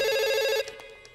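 A telephone rings loudly in a bright, repeating electronic tone for about half a second in an action film scene, then cuts off, leaving a quiet room with a few faint clicks.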